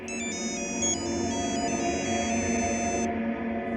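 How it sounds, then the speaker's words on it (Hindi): An electronic ringtone trills in a repeating pattern over a low background hum, then stops near the end. "पुलिस स्टेशन से फोन है"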